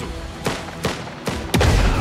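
Sharp gunshots in the video game Last Train Home, four loud bursts spaced roughly evenly, the last heavier and more booming, over a busy battle background.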